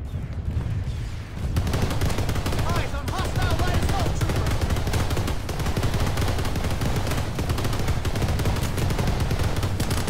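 Weapon fire in the Planetside 2 video game: dense, rapid bursts of shots run almost without pause after a short quieter opening, loud and close.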